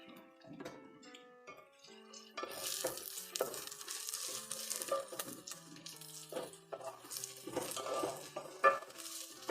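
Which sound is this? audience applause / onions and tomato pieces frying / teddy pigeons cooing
onions and tomato pieces frying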